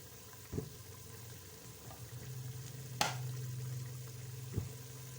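Masala spices with salt, chili and turmeric fry in a pan for aloo chicken, a steady low sizzle with a few sharp clanks of a spoon against the pan, close and fairly quiet.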